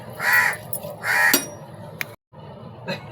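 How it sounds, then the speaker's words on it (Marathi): A crow caws loudly several times close by, harsh repeated calls with short pauses between them. "कावळ्याला भूक लागली, कावळा ओरडतोय।"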